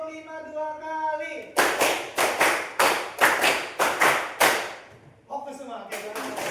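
A class claps in unison, two quick rounds of five sharp, loud claps each, with a voice speaking before and after the claps.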